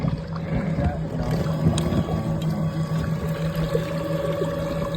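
A dual-thruster PacMotor kayak motor runs steadily on the water, giving a continuous close hum with a steady tone under light splashing and water noise, with no talk.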